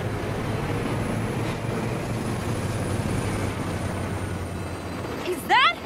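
A train rumbles past steadily in the video game Saints Row, a continuous low roar with a brief louder burst near the end.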